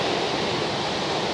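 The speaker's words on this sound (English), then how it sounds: "breaking water as it just drops off the top of the surf" Ocean surf breaking on the shore at Talisker Bay: a steady, broad wash of crashing water, fairly close and continuous, with no voices.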